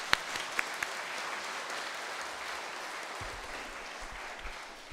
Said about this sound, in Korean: 박수 치는 거예요, 이때.